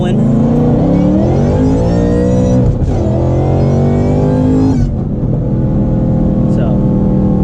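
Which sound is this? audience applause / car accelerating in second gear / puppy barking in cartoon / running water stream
car accelerating in second gear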